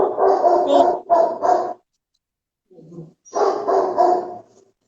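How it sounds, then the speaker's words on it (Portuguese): A household dog barks loudly at close range in two bursts of sharp, repeated barks separated by a short pause, with a faint low growl in the gap. "o nosso cachorro começou a latir aqui"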